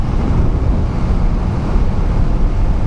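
Heavy wind roars and buffets the microphone of a KTM Duke 390 motorcycle riding down a highway, a loud, continuous low rumble with no talk.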